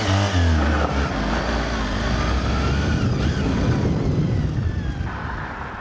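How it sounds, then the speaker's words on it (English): A small Honda V4 sports motorcycle is given big revs and pulls away from the start, a loud rising engine note at first that settles into a steady buzzing drone and fades slightly as it moves off. "you need to give it a really big handful of revs to move off from the start"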